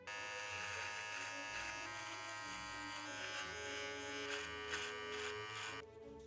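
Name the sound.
electric trimmer and foil shaver shaving neck stubble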